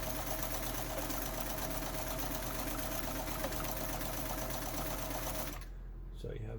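Kenmore 158.904 sewing machine running steadily while stitching fabric at a long stitch length, a loud continuous mechanical whir that stops abruptly near the end.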